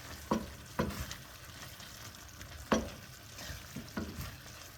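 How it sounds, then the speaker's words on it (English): Jam with fresh thyme stirred in a pot, a few distinct spoon scrapes and knocks against the pot over a low bubbling background, close by, with no talking. "And stir it in."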